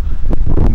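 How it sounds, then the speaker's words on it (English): Wind buffets a microphone beside a lake at Loch Sport, a short rumbling burst of low gusts with a couple of stronger blasts, close and fairly loud, no voice. "it's a bit windy, so I hope you can hear me"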